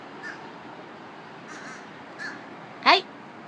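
Crows call with a few faint caws in the background, then one louder, nearer caw near the end, with no talking over them.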